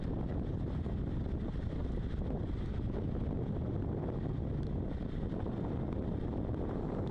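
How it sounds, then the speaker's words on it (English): Strong wind buffets the microphone during the Hong Kong Marathon, a loud, continuous low rumble of gusting air with no talk over it. "it's a lot more windy than they thought it might be"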